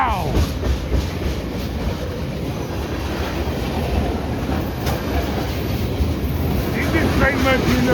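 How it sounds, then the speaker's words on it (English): KCS manifest freight train cars roll steadily past at close range, a continuous rumble with clickety-clack of wheels over rail joints and faint wheel squeal near the end. "This is a manifest train."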